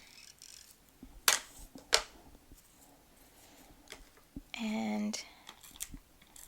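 Scissors snipping red crepe paper, two sharp crisp cuts close by, then a short buzzing tone and small handling clicks, with brief quiet speech.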